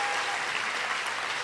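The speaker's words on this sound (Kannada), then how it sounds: "ದಯವಿಟ್ಟು ಅವ್ರಿಗೊಂದು ಚಪ್ಪಾಳೆ ಕೊಡಿ" Audience applause at a stand-up comedy show, a dense, steady burst of many hands clapping close, with no voices over it.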